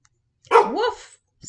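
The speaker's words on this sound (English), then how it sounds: "Woof, said Fred." A dog gives a single short, clear bark, close and distinct against silence.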